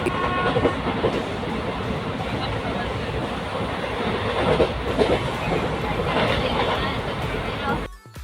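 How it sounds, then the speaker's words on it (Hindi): A passenger train running on rails, with a steady dense roar of wheels and carriage rumble filling the whole stretch and a faint murmur of voices beneath it. "हमारी ट्रेन भी आ गई थी और वो राइट टाइम पर डिपार्चर करती है"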